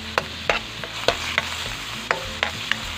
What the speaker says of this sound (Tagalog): lutuin muna natin yung pork giniling natin